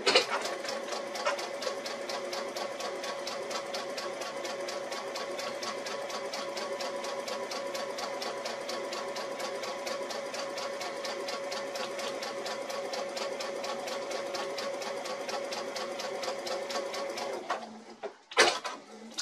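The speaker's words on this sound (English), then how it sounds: "We're just going to flip it around just like this and sew down the other side." A sewing machine stitches steadily down a quilt block guided by a Westalee ruler, a close, even whirring hum that runs unbroken for most of the clip before stopping with a few brief clunks at the end.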